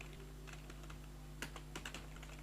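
Faint, scattered keystrokes on a computer keyboard while HTML code is typed: a few light taps, then a small quick burst of clicks, over a low steady hum.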